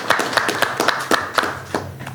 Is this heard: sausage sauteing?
no